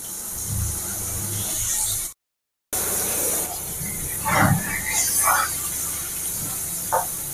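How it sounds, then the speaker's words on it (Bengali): Ginger and green chili paste sizzles in hot oil with a steady, bright hiss. The sound drops out for a moment, then resumes with a few small pops and crackles. "আদা আর কাঁচা লঙ্কা দেওয়ার পর অল্প ভেজে"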